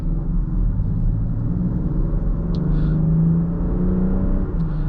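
A 2024 Land Rover Defender 130 with its engine running steadily, a low continuous rumble and whir that holds even throughout without distinct revving peaks.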